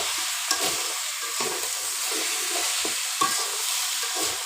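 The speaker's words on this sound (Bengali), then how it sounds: "মাছের মাথাগুলো বাজা হয়ে গেছে এবার নামিয়ে নেব" Fish heads fry and are stirred in a pan for a Bengali muri ghonto, with a steady close sizzle broken by repeated scraping strokes of the spatula, and no talk.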